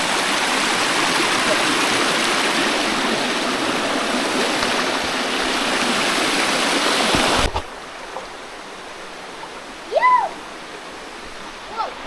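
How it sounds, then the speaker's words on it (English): Running water of a woodland stream rushes steadily and fairly loud, a broad continuous hiss that drops away abruptly partway through, leaving quieter background with a few short voices and whoops. "Just running water, as you can see"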